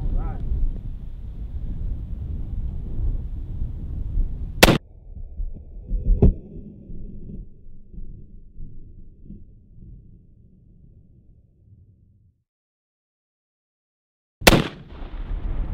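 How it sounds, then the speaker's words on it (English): A .50 caliber rifle fired at an explosive Thanksgiving target outdoors, two sharp, loud cracks several seconds apart with a smaller pop between, over low rumbling background that fades to near silence before the second shot. "We're gonna light her off and see what happens when you shoot this thing with a 50 cal."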